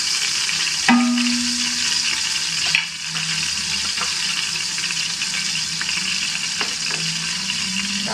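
Butter melting in a pan for nasi mandhi, a loud continuous sizzle with occasional stirring clinks and scrapes, close and steady throughout with no voices.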